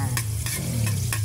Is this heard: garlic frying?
yes